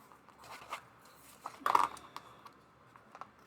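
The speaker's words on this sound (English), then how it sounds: "Okay, we're going to trim this. I'm going to grab my scissors." Scissors snip through scrapbooking paper in a few quiet, close cuts, with one sharper crisp snip in the middle and soft rustling around it; no talking.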